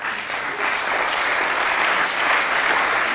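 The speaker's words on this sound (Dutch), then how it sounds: "Applaus." Applause from an audience at a 2010 knowledge-exchange event, a steady dense clapping that fills the whole stretch, close and fairly loud, with no talk over it.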